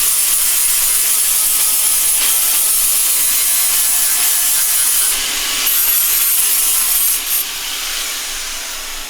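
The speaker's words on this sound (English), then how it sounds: "I'll just give it a bit of a grind back." Steady abrasive grinding on welds along a VW Beetle A-pillar, a continuous bright rasping whine held for several seconds, close and loud, with slight changes in pitch as the tool works the thin metal.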